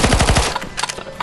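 Rapid automatic gunfire from zombie-shooting in the CS:GO zombie survival mod, a loud burst of close, fast shots at the start thinning into scattered, sharper reports.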